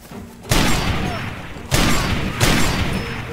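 Heavy gunfire in Far Cry 2, three loud booming shots or bursts each followed by a long ringing decay, close and dominant over a noisy background.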